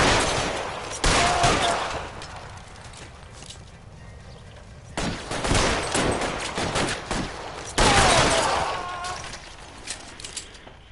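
A gunfight in the crime game L.A. Noire: three loud volleys of rapid shots, each trailing off into quieter scattered fire and clatter before the next burst.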